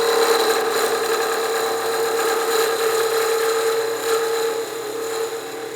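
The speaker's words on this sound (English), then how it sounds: "I'm going to switch to that shear scraping cut where I've rolled over that spindle gouge" A spindle gouge makes a shear scraping cut on a wooden whistle spinning on a wood lathe, giving a steady whirring hum with a light scraping edge that eases slightly near the end.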